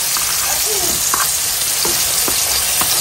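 A roast curry sautéing in a pan, a close, loud, continuous sizzle with frequent stirring scrapes and clinks throughout.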